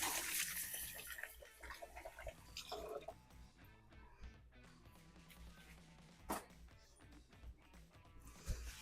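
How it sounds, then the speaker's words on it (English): Hands are washed under running water in a home kitchen, a faint, steady splash and trickle with occasional soft drips, heard alone without talking. "Now let me get me a hand wash real quick."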